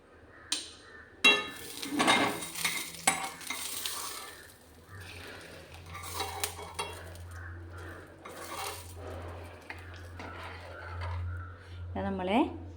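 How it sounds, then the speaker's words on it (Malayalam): A spoon stirs prawn mango curry in a pot, Kerala style, scraping and clinking against the metal amid a soft simmer, with someone talking over the stirring. "എന്നിട്ടൊന്ന് ചെറുതായിട്ട് നമുക്കിങ്ങനെ ഒന്ന് ഇളക്കി കൊടുക്കാം."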